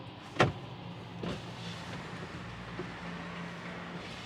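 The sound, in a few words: Tesla car power windows moving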